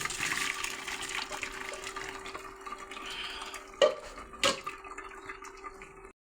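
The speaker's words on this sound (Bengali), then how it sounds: "এখন আমি জাইতে ঢেলে দিব।" Boiled radish greens and their cooking water poured into a strainer, a steady soft watery rush with two brief clatters near the end, close by and with no talk.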